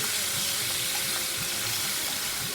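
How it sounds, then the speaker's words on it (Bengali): Boiled mutton frying in plenty of oil for Hyderabadi mutton fry (talahua gosht), a loud, dense, continuous sizzle close by with faint stirring knocks underneath. "এইবারে মাংস যেটা ছিল সিদ্ধ করা, ওইটা দিয়ে দেওয়া হলো। তেলটা একটু বেশি লাগে, যেহেতু মাটন ফ্রাই, তেল তো লাগবেই।"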